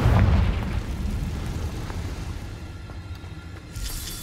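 A Confringo explosive spell blast in the Hogwarts Legacy video game: a loud booming burst at the start that rolls into a sustained rumbling roar, with a brighter crackle rising near the end.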